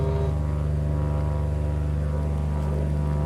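Twin propeller engines of a Cessna 337 in the X-Plane flight simulator hum in a steady, loud drone with an even pulsing beat during stormy-weather flight, alone without talk.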